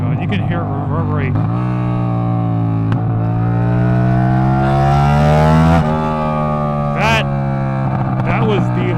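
A straight-piped 450 motorcycle exhaust revs hard and close, its pitch climbing and falling in repeated loud surges that ring and reverberate, with a steady rumbling idle between the revs.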